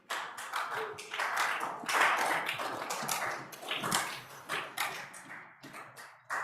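Scattered hand clapping in a Senate chamber during a floor session, a series of irregular claps fairly close, with a few short taps and rustles mixed in and no talking.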